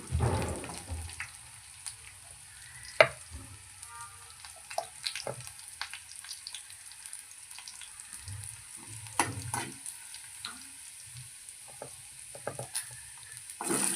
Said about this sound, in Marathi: कांदा घालून परतला